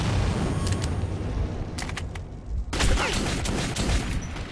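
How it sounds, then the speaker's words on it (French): An automatic weapon in the game Metro 2033 fires in loud, close bursts: a rattling volley, a short pause, then another sustained burst, with no talking. "c'est assez puissant quand vous tirez comme ça en rafale"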